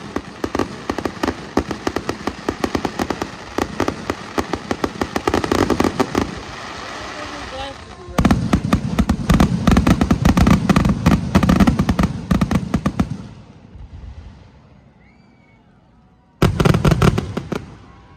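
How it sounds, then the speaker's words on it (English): Dense crackling fireworks bursting in rapid volleys at Hickory Motor Speedway during a race event, loud and close, pausing briefly before erupting again, with voices faintly mixed in. "Fireworks on the track and in the sky."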